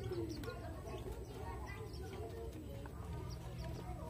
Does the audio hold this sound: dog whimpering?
no